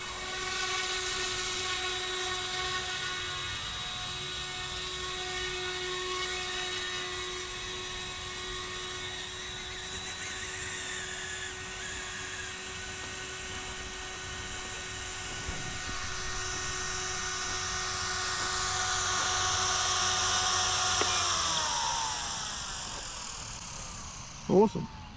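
A YuXiang F06 RC helicopter hovering in a park, its high motor whine and rotor buzz holding steady near the mic before pitching down and dying away on landing, ending with a brief knock.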